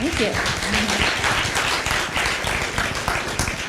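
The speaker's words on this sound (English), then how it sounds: "A round of applause." Audience applause at a Web3 and AI conference session, a steady wash of clapping from a crowd with voices mixed in underneath.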